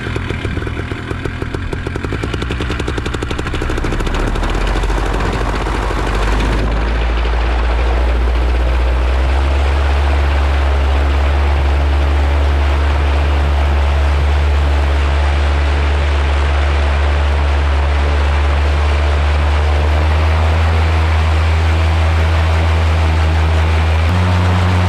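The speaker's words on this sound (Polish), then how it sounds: "2 minuty rozgrzewam silnik na obrotach około 5000." A paramotor (PPG) engine runs on the ground warming up at about 5000 rpm, a loud, close, continuous buzzing drone that shifts slightly in pitch early on and then holds steady throughout.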